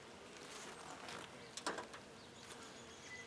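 A few honey bees buzz inside a hive built out from last year, a soft continuous hum with a brief closer flyby in the middle, fairly faint overall.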